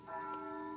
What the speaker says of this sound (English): That's the bell at St. Boniface, isn't it?